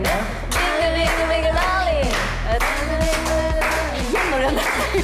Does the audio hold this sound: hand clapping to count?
yes